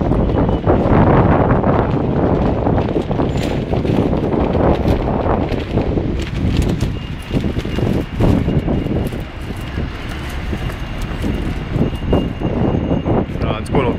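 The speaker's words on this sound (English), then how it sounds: "Probably can't hear me too well because of all the wind." Strong wind buffets the microphone outdoors on a walk through Aberdeen, a loud, continuous rumbling roar with gusts that never let up over the whole stretch.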